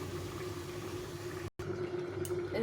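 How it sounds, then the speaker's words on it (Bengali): Malabar spinach and pumpkin curry simmers under a lid, giving a steady low bubbling hiss with a brief dropout midway and no talk. "এখন আমি একটু ঢাকা চাপা দিয়ে সেদ্ধ করে নেব"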